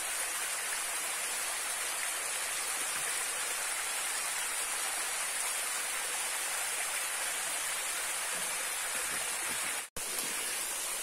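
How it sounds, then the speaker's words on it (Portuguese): Rushing water at the top of a tall waterfall, a steady dense roar filling the whole clip, close and loud with no voices, briefly cut by a tiny dropout near the end. "Chegamos no alto da cachoeira."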